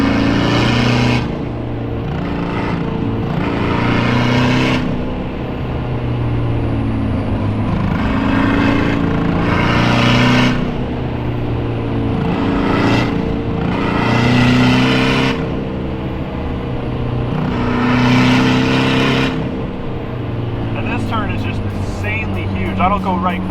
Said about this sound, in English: you guys see how well this car handles with all these curves and turns and corners